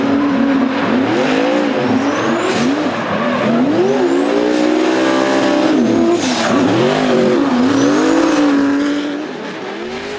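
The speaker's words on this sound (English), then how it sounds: "over Shane Allen in the BOC SB Tools Falcon, the 2JZ powered RX-7 not holding back in the chase run" A 2JZ-powered Mazda RX-7 drifts at a D1NZ round at Mt Smart Stadium, Auckland, its engine revving hard and sweeping up and down over sustained squealing tires, loud and close, before easing off at the end.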